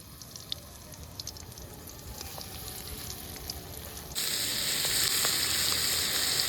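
Shrimp fry in hot oil in a wok, giving a steady close crackling sizzle that jumps noticeably louder and brighter partway through, with no voices.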